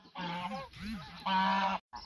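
Domestic geese honking loudly and close by in a rapid series of harsh, nasal calls with brief gaps, on a farm where geese are kept and eggs are being incubated.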